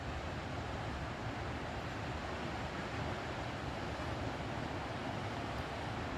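Waves break and wash steadily on the misty beach at Dapoli, a faint, continuous broadband hiss of surf with no distinct individual crashes and no voices.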